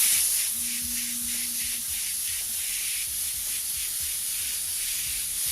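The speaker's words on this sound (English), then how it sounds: "We're just going to take and spray this right on top, right over top of it all." Steady airbrush spray of paint laid over a finished surface, a continuous close hiss with faint soft pulsing and no talk.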